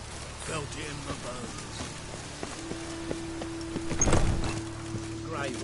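Rain falls in The Witcher 3, a steady soft patter with a faint sustained tone and a louder splashing burst midway, beneath a low ambient bed.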